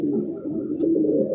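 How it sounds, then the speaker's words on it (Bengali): Pigeons from a pet breeder's stock coo in a low, steady, throaty burble close by, a continuous rolling murmur with no talking over it. "খুবই চমৎকার একজোড়া কবুতর"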